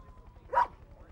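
A dog gives a single short bark that rises briefly over a faint, steady low background.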